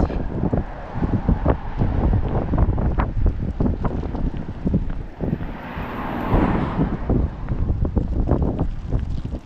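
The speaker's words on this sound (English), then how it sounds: "It's getting windier as I walk." Strong wind buffets the microphone during a night walk along a street in Maine, a steady loud roar with gusty surges throughout.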